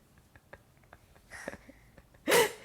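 A single sharp human sneeze bursts out loudly near the end, preceded by soft breaths and small mouth sounds in a quiet room.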